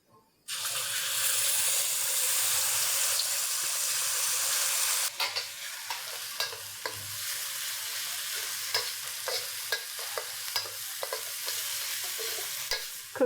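Yellow curry paste hits hot vegetable oil in a pan with a loud hissing sizzle for about five seconds, then settles into a softer fry punctuated by frequent close scraping stirs, with no talking.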